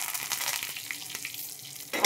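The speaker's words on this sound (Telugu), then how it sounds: "పోపు అయితే వేగిపోయిందండో, కనపట్టలేదు కానీ ఇదిగోండి కరివేపాకు." Curry leaves sizzle in hot oil as a tempering with asafoetida, a soft continuous crackle with a few sharp pops and a louder burst at the end, close by with no talking.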